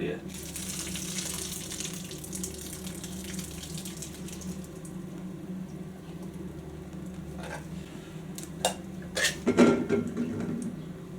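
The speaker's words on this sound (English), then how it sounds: "So all we're going to do now is just pour the water all over my knee. Pour the water out," Water poured out of a pot at a motorcycle camp cooking setup, a steady splashing pour running throughout with a few louder clatters near the end.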